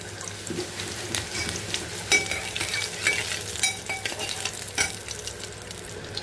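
Garlic cloves frying in hot oil in a pan as the first tempering step for an egg and dried fish curry, giving a steady crackling sizzle with occasional sharp spatters and stirring clinks.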